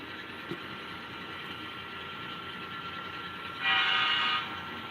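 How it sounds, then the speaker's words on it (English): A faint steady hum runs throughout, then a model train horn sounds once, briefly and softly, near the end. "you can hear the horn and the bell."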